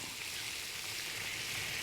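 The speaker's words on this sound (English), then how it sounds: "I'm gonna put one in, make sure we hear a sizzle." Steady broadband hiss of shrimp sizzling in a hot pan, continuous and fairly loud with no talking.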